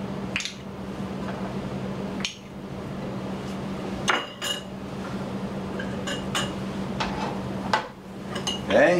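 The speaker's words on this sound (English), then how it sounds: "let's get some butter into the pan again" Metal pan and utensils clink and clatter on the stove while butter goes into the pan, with sharp scattered knocks over a steady low hum, close and moderately quiet.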